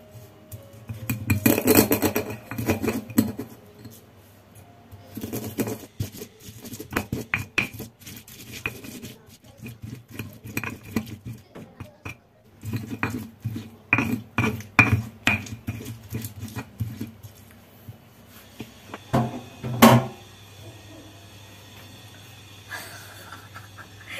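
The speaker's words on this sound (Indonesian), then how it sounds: "Lanjut dalam perulekan, ini suara kanggo kuwak wae." A stone mortar and pestle grinding chili spice paste in a home kitchen, producing steady rhythmic scraping, knocking and clattering strokes, close and moderately loud, with short pauses between bursts.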